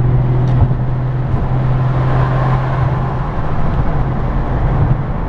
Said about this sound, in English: So we are in a little bit of congested traffic